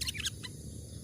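A sooty-headed bulbul (kutilang) gives a few short, bright chirps in bushland, clustered in the first third of a second, then quiet low background hum.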